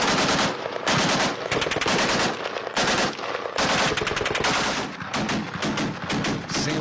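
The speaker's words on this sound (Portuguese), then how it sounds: "O outro soldado continua atirando." Automatic gunfire from a soldier in the Syrian war, long rapid bursts of machine-gun shots, loud and close, with brief pauses between strings of fire and no talk.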